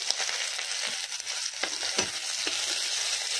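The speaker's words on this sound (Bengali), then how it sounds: "এখন দিয়ে দিলাম পেঁয়াজ কুচি," Chopped onions sizzle in a hot pan on a home stove, a steady crackling fry with scraping stirs and small pops, close and alone.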